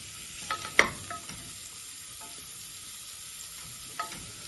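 Chopped onions and peppers for a vegetarian chili are stirred in a frying pan: a soft steady sizzle broken by a few sharp spatula knocks and scrapes, one loud clack early on, then sparse clicks.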